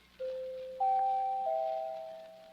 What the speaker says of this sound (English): New doorbell, too.